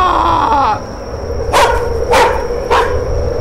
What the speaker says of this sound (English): That dog has some lungs.